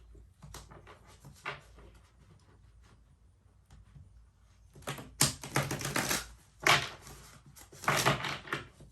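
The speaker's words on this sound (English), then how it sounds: "Let me give a quick shuffle real quick." A deck of oracle cards is shuffled by hand in quick, crisp riffling bursts, starting soft and sparse then growing into several loud, fluttering rushes near the end, with no talk.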